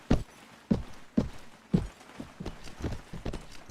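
Horse hooves walk on the ground in Mount and Blade: A Clash of Kings. Four loud, close thuds at a steady pace are followed by a run of lighter, quicker steps, with no talking.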